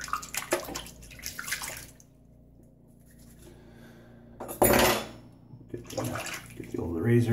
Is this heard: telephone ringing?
no